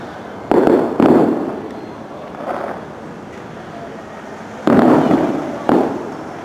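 Fireworks exploding at the Fur Rondy winter festival, several loud booming bursts at irregular intervals with a couple of rumbling gaps between, close and forceful over steady wind and crowd background.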